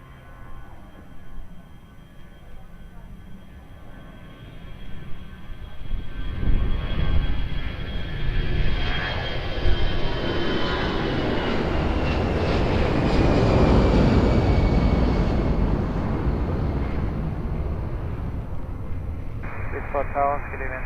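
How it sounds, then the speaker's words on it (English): An Airbus A320 departing Lisbon Airport, its engine noise building from a faint hum to a loud, sustained roar that peaks mid-clip and slowly fades, with radio chatter and a steady tone in the background. "Airbus 320 departing, expect late landing clearance"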